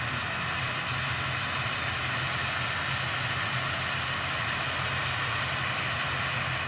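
An Aurigny ATR turboprop airliner departing Manchester Airport for Guernsey, giving a loud, constant propeller-engine drone that stays even and close throughout.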